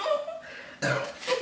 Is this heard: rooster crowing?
no